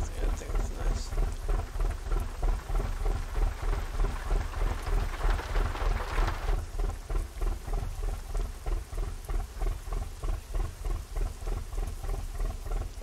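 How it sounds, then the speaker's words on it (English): Heavy rain pours steadily while driving a truck in American Truck Simulator, with a deep rhythmic rumble underneath, a constant loud wash of sound lasting throughout. "Ooh, it's raining."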